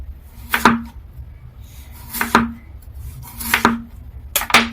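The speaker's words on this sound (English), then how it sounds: "I'm going to use my knife here to just slice my potatoes" A knife slices raw potatoes thinly for stovetop breakfast potatoes, landing as four sharp, evenly spaced chops on a board, loud and close with no one talking.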